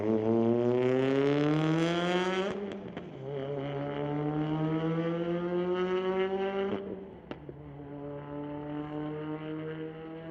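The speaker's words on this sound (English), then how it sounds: "It's Sherman Powell up now with the 2019 Audi RS3 squaring off against the Mitsubishi Lancer." A 2019 Audi RS3 and a Mitsubishi Lancer drag race at a raceway, one engine climbing hard through the revs with two sharp gear shifts, a steady rising roar that drops back briefly at each shift.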